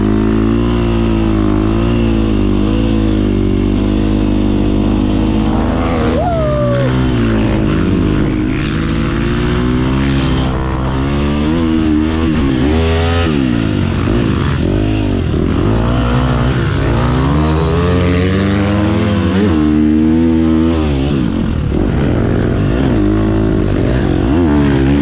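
Dirt bike motorcycle at a sand training camp, its engine revving loud and close throughout, pitch repeatedly climbing and dropping as the throttle opens and closes, with no talk.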